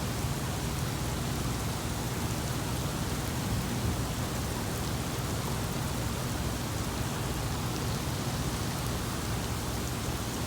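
Rain pours during an early morning June thunderstorm in Advance, North Carolina, a dense, even hiss that stays loud and unbroken throughout.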